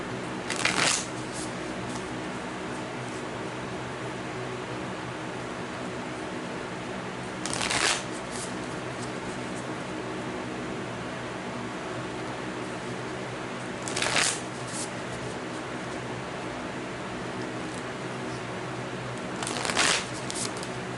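Tarot cards are shuffled in four short bursts spaced several seconds apart, with quiet room tone between them and no talking.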